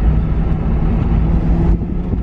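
BMW M3 with a Valvetronic aftermarket exhaust under full-throttle acceleration, a steady loud low drone that stays dense and continuous, dipping briefly near the end, with no talk over it.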